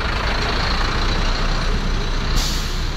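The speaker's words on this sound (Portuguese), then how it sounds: "Caminhão de frete" A freight truck delivering beer rumbles nearby with a steady heavy engine drone, then a sharp hiss of air brakes near the end; no one speaks.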